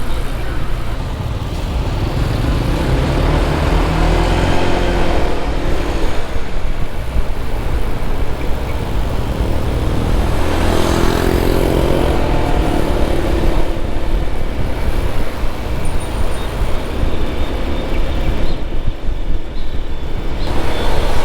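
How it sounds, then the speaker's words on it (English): Road traffic flows steadily near the airport in Bali after floods: a continuous, loud wash of engines and tyres with passing vehicles swelling and fading, and an aircraft-like drone mixed in. "So here at the airport, traffic's flowing beautifully."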